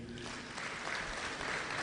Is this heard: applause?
yes